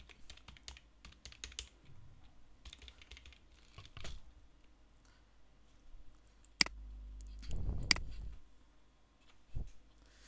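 Quick bursts of keystrokes on a computer keyboard while HTML code is entered, light clicks in uneven runs with short pauses and a couple of sharper taps, quiet and close.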